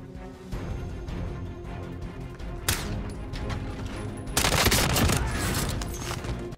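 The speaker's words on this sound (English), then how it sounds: "There were some gunshots here" Rapid bursts of video game gunfire in Call of Duty Warzone crack out in a dense fusillade, a sharp burst near the middle and a heavier, louder volley toward the end over a busy rumbling background.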